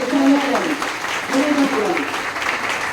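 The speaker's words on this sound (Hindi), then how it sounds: "एक बार शानदार ताली अपने लिए बजा लो" A seated audience at an RCM business plan meeting claps for itself: a steady, close round of applause lasting about three seconds, with a voice and a tonal sound over it.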